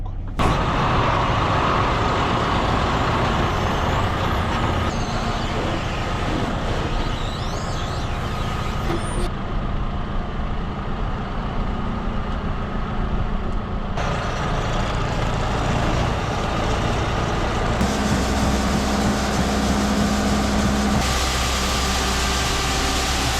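A cold farm tractor engine runs steadily and loudly throughout, a continuous low diesel rumble with a brief rise in intensity near the end, no talk over it.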